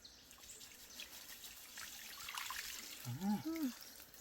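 Small fish are rinsed in water, a soft trickling and sloshing close by that builds toward the end, with a short burst of voice near the close.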